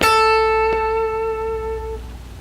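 A single guitar note, bent up a whole step into A in a blues phrase, rings out clearly and sustains alone before fading.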